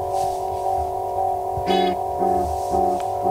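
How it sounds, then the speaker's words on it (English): Guitar played through an EarthQuaker Devices Disaster Transport digital delay pedal set for a muted, tape-echo tone: a sustained chord with soft, dark repeats, then a few short plucked notes pulsing rhythmically, no talking. "This is meant to be so that it sounds like an old tape echo, because it's a digital pedal, but it's doing an analog job"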